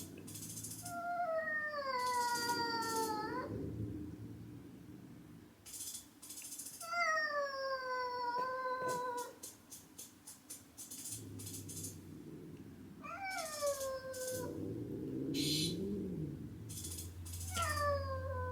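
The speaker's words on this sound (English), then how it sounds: "all I hear is growling and howling" Two house cats, Nancy and Boo, trade long rising howls and low growls in repeated drawn-out bouts, fairly loud and close, with brief pauses and rattling scuffles between.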